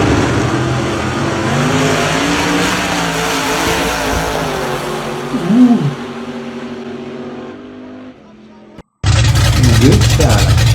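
A 1960s gasser drag car engine roars loud and close with a sustained heavy rumble that fades away, then cuts abruptly into another loud engine running on the street, with voices mixed in.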